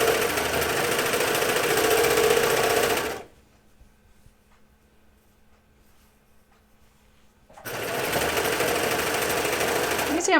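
A sewing machine runs loud and steady while stitching the outseam of Hudson pants, stops for several seconds of near silence, then starts stitching again at the same rapid, even pace.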